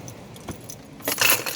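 A set of car keys with a key fob jangles briefly as it is picked up, a couple of soft metallic clinks followed by a louder, brighter rattle close by.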